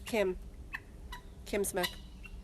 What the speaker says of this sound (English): that's Paul crowing